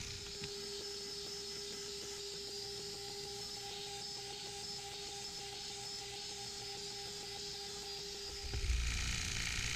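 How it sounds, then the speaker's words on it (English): A Handibot CNC router cuts a part held down on a vacuum plate. A steady whine and hum carry on for several seconds, then the pitch shifts and a low rumble rises near the end. "So the machine can go around and cut out the part you need."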